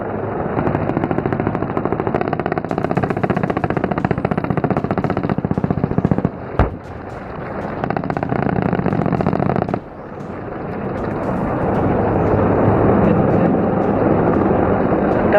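An Indian Army Rudra ALH Mark 4 attack helicopter fires its weapons in a stream of rapid crackling bursts, broken by one sharp loud bang and brief pauses, followed by a rising rumbling roar.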